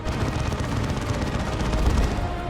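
Assault cannon fire in the real-time strategy game Dawn of War 2, a dense, rapid, continuous stream of gunfire bursts mixed with booms throughout, loud and unbroken with no speech.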